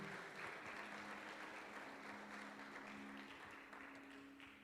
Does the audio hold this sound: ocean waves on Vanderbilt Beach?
no